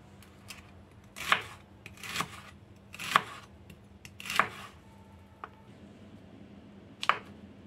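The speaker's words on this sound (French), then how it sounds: "Je vais couper tous ces légumes." Knife chopping vegetables for vegetarian stir-fried noodles, five distinct firm thumps on a cutting board at irregular intervals, close and fairly quiet, with a faint extra tap near the end and no talking.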